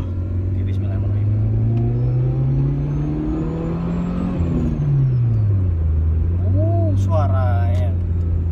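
A 1996 Toyota Corolla AE110 with an HKS exhaust drives past steadily, its engine note rising and falling with the revs, continuous and close. Traffic noise and a voice sit in the background.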